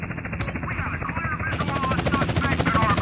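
An aircraft flies in a video game, producing a loud, steady whirring drone with a rapid chopping pulse like helicopter rotors, continuous throughout with no talking.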